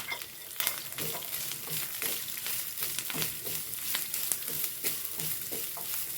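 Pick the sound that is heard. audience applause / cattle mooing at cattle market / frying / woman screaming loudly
frying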